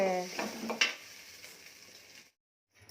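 Ground masala paste for brinjal curry sizzles and fries in a pan, with a stirring scrape and clink near the start, heard up close before the sound cuts off abruptly.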